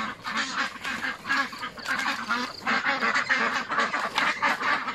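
A flock of ducks on a small duck farm quacks and honks continuously, many loud, close voices overlapping in busy bursts.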